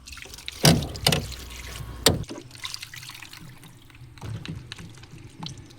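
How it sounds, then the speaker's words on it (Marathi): Cut country chicken is washed with water, sloshing and splashing in a few sharp bursts followed by softer trickling and dribbling, close by. "कोंबडा कापून झालाय. आता स्वच्छ धुवून घेते."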